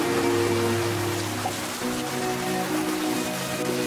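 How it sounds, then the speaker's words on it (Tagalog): Heavy rain pours down in a steady, dense hiss, a constant close wash of water with a faint low hum beneath it and no voices. "ang lakas ng ulan"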